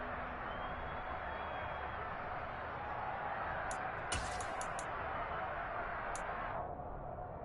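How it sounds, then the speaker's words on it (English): A packed stadium crowd roars through a Super Bowl game in Madden 23, a dense, steady wall of cheering that stays loud and even throughout, with a few sharp clicks near the end. "this crowd's going to get even louder"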